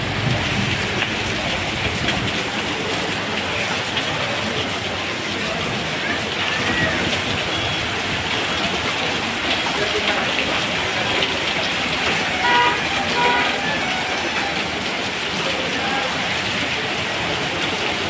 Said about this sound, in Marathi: विजाच्या कडकडाटासह हा जोराचा पाऊस 2:15 वाजता सुरू झाला आहे